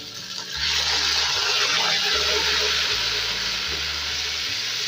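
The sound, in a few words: water added to browned frying onions, sizzling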